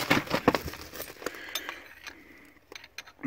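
Metal tap cutting a thread into a UAZ front axle part, giving a string of light clinks and scraping metallic ticks up close, busier at the start and thinning out toward the end.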